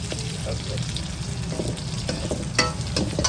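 Broccoli, mushrooms and crispy pork stir-fry with garlic and chili in a hot pan, a continuous sizzle with scraping and clanking spatula strokes, close, while someone speaks over it.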